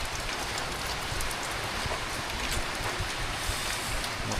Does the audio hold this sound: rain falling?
yes